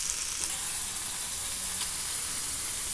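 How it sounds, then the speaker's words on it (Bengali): Onions and spices fry in a pan for Bengali chicken curry, giving a loud, steady, continuous sizzle with light stirring and no talk. "পেঁয়াজগুলো ভাজা হচ্ছে। এবার সব মশলাগুলো দিয়ে কষানো হচ্ছে।"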